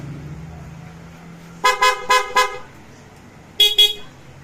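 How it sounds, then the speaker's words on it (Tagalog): A PIAA car horn sounds four quick honks in a row, then after a pause two more short blasts, loud and close over a low idle. "Busina PIAA, may selector din."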